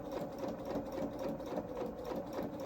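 A sewing machine stitching a knee pad onto small doll-sized coveralls, running in a steady, even whirring rattle with rapid needle beats, close up and alone with no talk.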